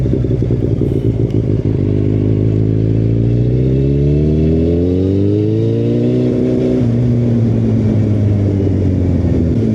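A 2012-era Yamaha FZ8 motorcycle is ridden close by, its engine loud and continuous, rising in pitch through a gear, then steadying into a smooth drone.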